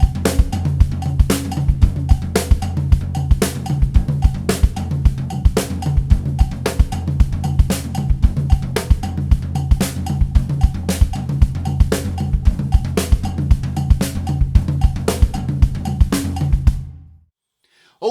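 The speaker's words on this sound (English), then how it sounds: "so I can actually play the offbeats on my cowbell with my left foot." A tom-heavy drum groove rolls along at a steady driving pace, with a cowbell played by foot pedal on the offbeats, loud and close, before the playing stops abruptly into silence.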